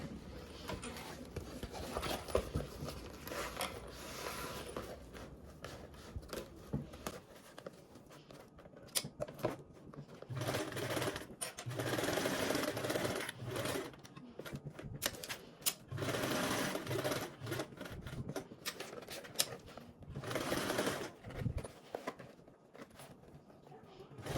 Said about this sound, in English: I'm going to go ahead and baste around and then top stitch down